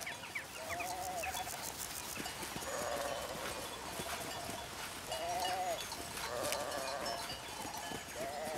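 Sheep in dry, hot Provence countryside bleat several times at moderate distance over a steady hiss of wind and insects, the wavering calls repeating every second or two.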